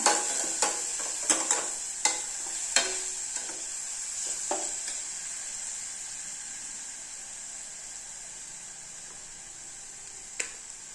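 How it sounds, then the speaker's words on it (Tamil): Food sizzles steadily in a hot pan over low heat for tomato rasam while a utensil clicks and scrapes now and then, the stirring heavier at first and easing off. "சிம்மில் வச்சுட்டு நல்லா வதக்கி விடுங்க."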